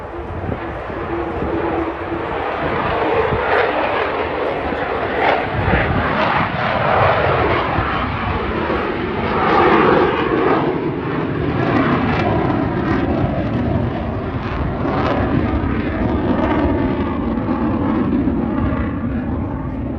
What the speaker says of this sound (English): I don't even know if that U2 is landing or not.